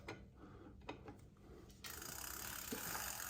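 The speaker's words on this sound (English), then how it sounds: "This is just a basic pedal wrench." A basic pedal wrench works an Odyssey bicycle pedal, giving a scraping, ratcheting mechanical sound that grows louder and steadier in the second half; no speech.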